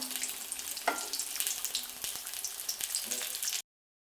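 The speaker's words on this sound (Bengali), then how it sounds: "তো মাছগুলি এদিকেও লাল করে ভাজা হয়ে গেছে" Rohu fish pieces fry in hot oil in a home kitchen with a dense, close, continuous sizzle. A few stirring clinks sound over it before it cuts off abruptly.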